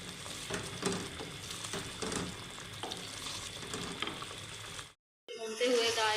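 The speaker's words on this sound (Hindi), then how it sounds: "साथ में ये प्याज भी ऐड कर देंगे। अब हम इसको अच्छे से भूनेंगे तकरीबन 5 से 6 मिनट तक।" Onions and mutton frying for achar gosht while being stirred, with a steady close sizzle and scraping strokes throughout, then a brief drop to silence before a louder burst of sizzling and stirring.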